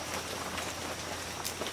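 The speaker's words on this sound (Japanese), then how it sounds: "雨がやばい。" Steady rain at a campsite near a bungalow, a continuous even hiss of drops on surfaces, close and constant with no voices.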